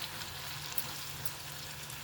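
Soft, steady sizzle from a hot pan with native tomatoes, juicy and just added for a Telugu tomato and broad bean seed curry; a continuous close crackle with no voices.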